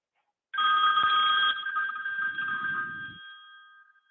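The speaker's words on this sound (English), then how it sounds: "take a phone call." A telephone rings with a steady electronic bell tone, loud and close, sustained for a few seconds before fading, with a low rumble underneath partway through.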